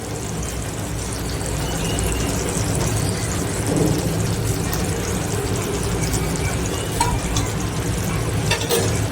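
Jain paneer bhurji, cooked Kathiyawadi style in ghee-rich gravy, is stirred in a pan, giving a steady sizzle with soft scraping and a few sharp clicks near the end.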